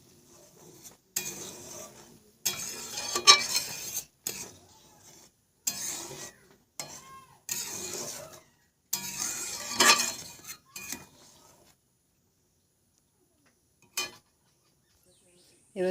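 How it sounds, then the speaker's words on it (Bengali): Milk with bay leaves being stirred in a pot as it comes to the boil, with bursts of clinking spoon-on-metal scraping and stirring in separate short spells, then quiet stretches. "দুধটা একটু নেড়ে নেব"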